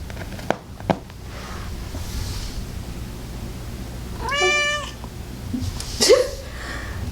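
Pet cat Fiona gives a drawn-out meow in the middle and a shorter, sharper cry near the end, both close by, with some handling noise, light thumps and a low background hum.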